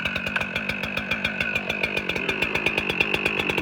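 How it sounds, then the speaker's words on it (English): A pro model chainsaw idles just after starting, a steady close two-stroke engine drone with rapid even firing pulses and no voices. "The saw is running now."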